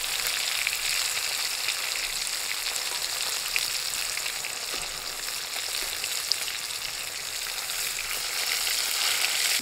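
Potatoes sizzle and crackle steadily in hot oil in a pan, cooked for a light Bengali hilsa fish curry with cumin tempering; the close, dense frying hiss continues evenly throughout, with no voices.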